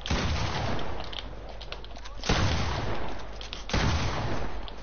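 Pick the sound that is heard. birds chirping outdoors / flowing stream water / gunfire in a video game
gunfire in a video game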